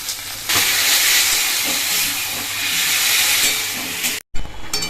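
A loud, continuous frying hiss fills the space as potatoes and taro crackle in hot oil with spice masala, before cutting off abruptly near the end.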